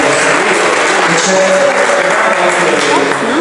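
Loud, dense applause from a crowd, continuous clapping throughout with faint voices underneath.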